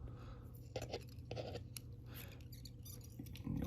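Several quick, close scissor snips trimming fly-tying fibers while tying a Royal Wulff fly, clicking at irregular intervals, soft and crisp against a quiet background.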